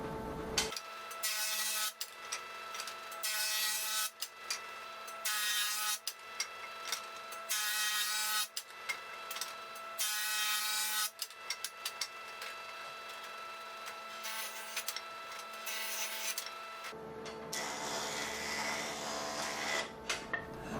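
A jointer planes wooden boards for a face grain cutting board, giving several loud, close bursts of cutting noise over a steady motor hum, then a rougher, shifting whir near the end, with no talking.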